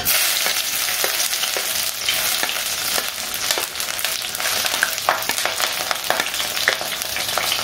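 Garlic and ginger frying in a mix of ghee and white oil, a loud, constant close sizzle broken by repeated sharp spatters and scraping stirs.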